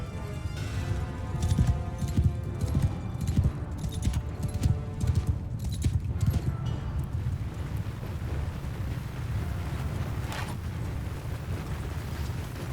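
Horses walking in a Mount & Blade II Bannerlord battle, a steady stream of hoof clip-clops over a low rumbling din, thinning out toward the end.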